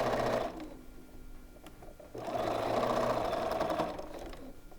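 Sewing machine stitching a straight seam across a quilt block, a close, even mechanical whir in two bursts separated by a brief slowdown.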